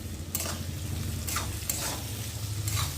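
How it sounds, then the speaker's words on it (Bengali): Onions fry in a pan with salt for a chicken dish, a continuous sizzle broken by several scraping stirs of a spatula against the pan, close and alone. "বন্ধুরা দেখো পেঁয়াজটা ভাজা হয়ে গেছে"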